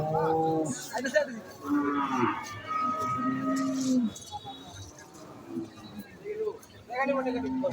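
Cattle low repeatedly at a busy village cattle market in Dhanbari, with people talking throughout and the animal calls rising over the crowd.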